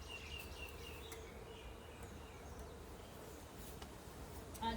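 Honeybees buzz in an opened hive, a soft, continuous hum close by with faint scattered clicks and a brief louder bump at the end; no one speaks.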